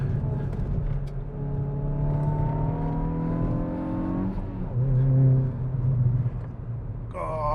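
A Hyundai i20 N hot hatchback's engine drones and climbs through the revs on a hilly road, then drops sharply as it brakes hard and shifts down to second, pitch falling before a brief rise at the end.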